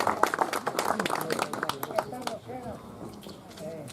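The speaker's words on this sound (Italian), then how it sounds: "un applauso a Gigi Angeli" An audience applauds Gigi Angeli of Palau at a verse gathering: a burst of sharp, crowded claps for about two seconds, then a voice takes over as the clapping thins out beneath it.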